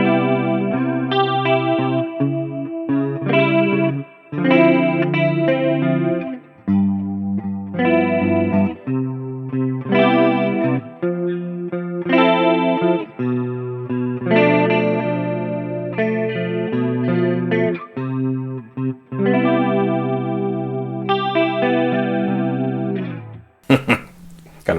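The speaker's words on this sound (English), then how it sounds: "he used that for like a chorusing effect" A clean electric guitar runs through a chorus effect on a Line 6 POD GO, playing shimmering chords and melodic phrases close and clear, with brief pauses between phrases.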